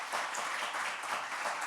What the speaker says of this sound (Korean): 한번 박수로 환영하겠습니다.